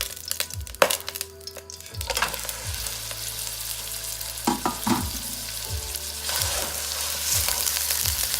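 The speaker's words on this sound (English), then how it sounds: "I'm gonna cook the pork." Pork sizzles and fries steadily in vegetable oil, with crackles, pops and occasional clinks of a utensil stirring the pan, close and moderately loud with no talking.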